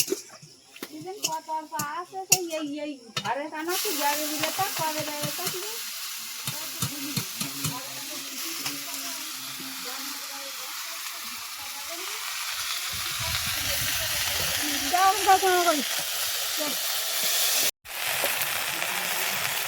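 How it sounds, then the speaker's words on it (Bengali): Greens fry in a pan with onion and garlic, giving a steady sizzle and hiss close by. Someone talks over the opening seconds, and stirring scrapes come in between. "এই যে শাক চড়িয়ে দিয়েছে"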